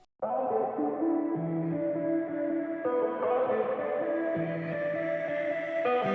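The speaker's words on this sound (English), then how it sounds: "I drowned it in reverb and then put an auto filter on it just to kind of muffle it a little bit" A soft synth melody washed in heavy reverb and an auto filter, its tone muffled and dull, sustained notes blurring together with no voices.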